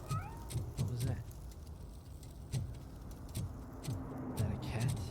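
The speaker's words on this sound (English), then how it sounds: "Is that a cat?" A cat meows several times in Robocop: Rogue City, short repeated cries mixed with ambient street and vehicle noise, with a voice speaking briefly.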